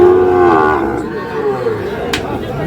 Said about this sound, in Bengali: বেশ কিছু গরু এখানে বাঁধা রয়েছে